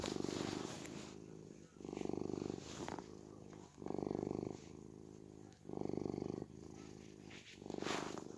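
A kitten purrs close up in slow, rhythmic cycles, each rumbling breath swelling and fading in a steady pattern.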